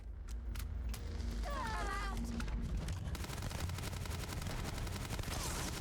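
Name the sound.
gunfire from a gun in the video game Starfield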